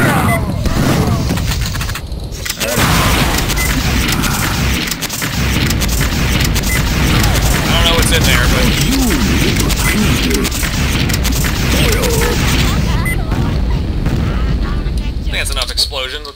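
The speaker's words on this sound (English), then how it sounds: "Explosions." Explosions on the pleasure boat level of the Shadow Warrior video game roll out as dense, continuous booming blasts and gunfire-like bursts, loud and layered for most of the stretch with a brief lull near the start.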